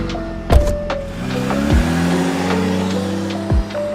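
A car being driven in the game Avatar World, with a sustained engine tone that climbs in pitch, broken by several sharp clicks and thumps, fairly loud and close, with no talk.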